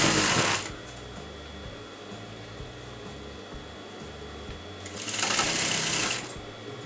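A sewing machine runs in two loud bursts at the start and end while stitching the cross piece onto a kurta neckline with a front slit, a quieter mechanical hum and motor whine continuing between them.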